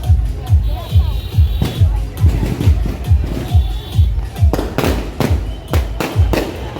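Sharp firecracker bangs crackle and burst loudly at a Ganesh immersion procession in Palghar, thickening into a rapid volley near the end, over a steady booming beat and a murmuring crowd.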